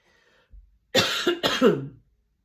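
A single harsh cough in two quick bursts, close and fairly loud, after a brief quieter throat sound.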